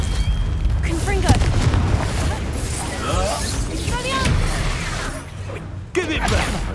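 Fiery Confringo spell explosions in the Hogwarts Legacy video game, heavy booms mixed with whooshes and crashing impacts that run nearly nonstop over a dense battle mix, with voices in the background.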